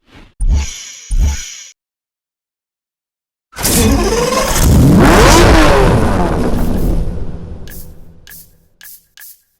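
A Lamborghini Murcielago LP654 Roadster in Need for Speed Hot Pursuit gives two short, loud engine blips, falls silent, then lets out a long, powerful rev that swells and fades, with a few sharp pops at the end.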